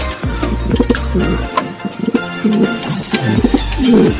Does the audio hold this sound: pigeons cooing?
yes